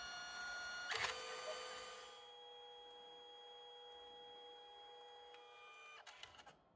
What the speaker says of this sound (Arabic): الاوراق تطلع وتطبع وبعدين تطلع لكم برا